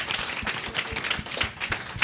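Applause from an audience at a panel discussion on restaurants, farms and climate, heard as a steady wash of scattered claps that stays at an even level throughout.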